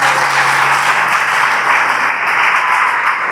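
Church congregation applauding during a sermon, a sustained, even wash of many hands clapping at close range with no voices over it.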